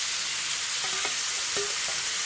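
Boiled noodles are stirred and fried in a pan for spicy Korean-style noodles, giving a loud, continuous, close hiss of sizzling oil with a few light utensil taps.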